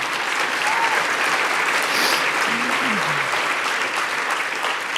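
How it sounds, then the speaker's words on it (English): An audience at the CJF Awards 2023 tribute gala applauds for Bob Fife, a dense, sustained wash of clapping that fills the room steadily throughout, with a few faint cheers mixed in. "Yes, let's applaud Bob Fife."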